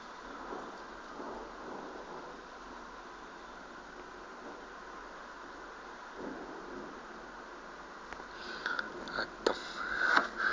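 Thunder rolls in a distant thunderstorm at Moulins, a faint, sustained low rumble over the hiss of steady rain, with a few louder crackling rain and handling noises near the end.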